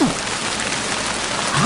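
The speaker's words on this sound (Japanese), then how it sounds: "雨？" Steady rain falls in a radio drama scene, a dense continuous patter of drops on a surface, fairly loud and even throughout with no talk.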